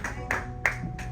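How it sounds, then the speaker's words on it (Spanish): A church congregation claps in a few scattered, uneven bursts, with sharp slaps at irregular moments over a low hum of the room. "¿Por qué no le da un humilde aplauso al Señor, hermanos?"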